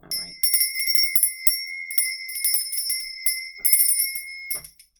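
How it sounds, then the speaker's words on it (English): A small handheld bell rings continuously in quick, uneven shakes, bright and close, for several seconds before stopping abruptly. "I'm going to be ringing my bell also"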